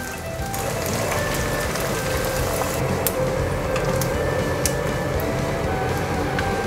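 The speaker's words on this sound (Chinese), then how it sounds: "先让它慢慢炸定型，炸成像这样有点焦黄色，边缘有一点酥脆" Food deep-frying in hot oil in a wok, a steady loud sizzle and crackle of bubbling oil with scattered pops, continuous and close.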